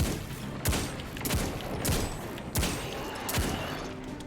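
Hand cannon gunfire in the video game Destiny 2 on PS4: six heavy single shots spaced roughly a second apart, each a sharp loud crack with a booming low tail, no talking.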